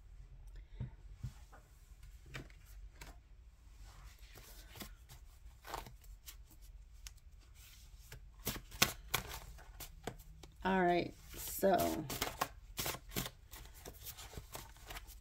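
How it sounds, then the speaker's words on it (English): Soft, rapid riffling and tapping of tarot cards, with a few flurries of shuffling, under quiet speech near the microphone. "I don't know why I'm shuffling on camera."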